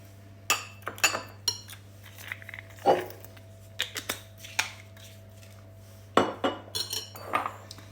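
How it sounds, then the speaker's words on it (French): A metal spoon mixing hazelnut oil and honey in a bowl, with scattered clinks and scrapes against the bowl in uneven bursts over a low steady hum. "Donc je vais mélanger tout ça juste avec ma cuillère"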